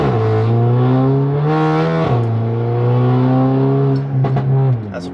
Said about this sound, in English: I'll launch away from this light here.